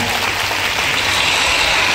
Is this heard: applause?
yes